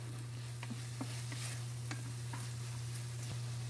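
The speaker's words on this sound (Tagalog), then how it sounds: "Tapos haluin natin guys. Halo lang ng halo" Chicken Bicol Express with chili being stirred in a frying pan, a constant close sizzle broken by a few light scrapes and taps of the utensil.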